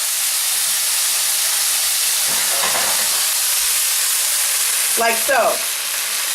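Vegetables for a seafood saltado sizzle and hiss steadily in a hot pan, loud and close, while a voice briefly speaks over the frying near the end.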